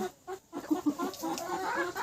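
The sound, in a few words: domestic red chickens clucking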